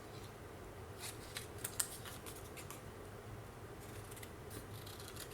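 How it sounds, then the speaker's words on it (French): Scissors cut paper for a scrapbook page. Faint, quick snips and soft crinkles sit over a low, steady room hum, close but quiet, with no voices. "Puis, je vais couper"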